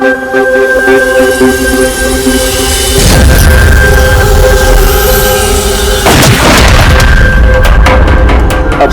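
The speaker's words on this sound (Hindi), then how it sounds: "तुम यहीं से 7-8 फीट की दूरी से इसे गोली मारो" A loud boom of a gunshot in a Hindi TV crime drama scene cuts through a dense, roaring score, followed a few seconds later by a second heavy blast.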